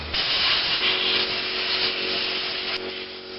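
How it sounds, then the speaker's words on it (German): Compressed air blowing Volkswagen Golf brake system parts dry after a brake hose replacement, a loud continuous close hiss that holds steady for several seconds and tapers slightly at the end. "muss ich natürlich nun alles trocken blasen"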